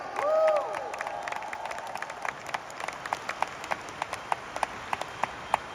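Scattered audience clapping at a motivational business event, starting with a brief tonal sound, then thinning to a sparse, slowing series of distinct individual claps.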